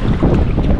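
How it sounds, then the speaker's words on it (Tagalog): Strong outdoor wind buffets the microphone in a loud, continuous rumbling roar with no voices. "May hangin pa ngayon. Lumakas pang hangin."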